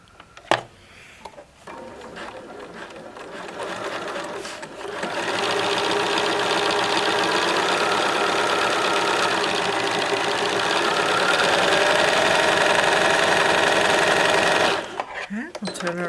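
A sewing machine stitches fabric along a marked line for a basic sampler quilt, running steadily and fairly loud for about ten seconds, with short handling noises and pauses before and after.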